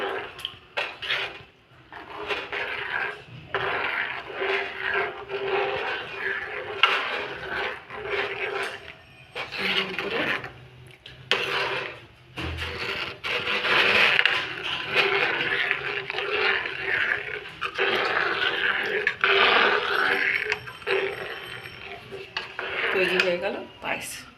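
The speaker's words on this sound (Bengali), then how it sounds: "যে গুড়টা আমি দুধ দিয়ে গলিয়ে রেখেছিলাম ওটাকে একটু ঢেলে দিলাম নাড়িয়ে নাড়িয়ে নাড়িয়ে নাড়িয়ে" A spoon scrapes and clinks against a pan while milk and jaggery melted in milk are stirred over and over in a home kitchen, an irregular close metallic scraping that runs throughout.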